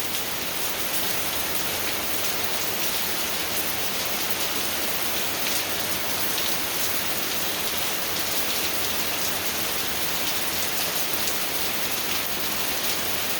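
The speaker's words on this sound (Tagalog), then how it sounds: "ang lakas ng ulan dito sa amin" Heavy, steady rainfall pours down without a break in the woods, a dense hiss of drops striking leaves and ground close by, with no voices.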